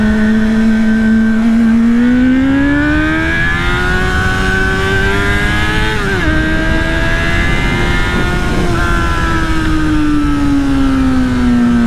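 A Honda Hornet four-cylinder motorcycle engine runs loud and close for a sustained stretch, its pitch climbing, dipping briefly and rising again as the revs swell and ease, with no talk over it.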